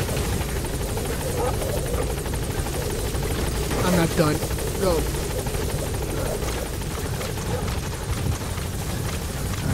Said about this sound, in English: Alright, helicopter, let's go.